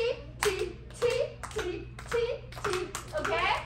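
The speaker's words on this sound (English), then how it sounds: "I will show you how to clap my hand" A person claps out a rhythm for a children's music game, distinct hand claps in short groups, close and clear, with a voice chanting between them.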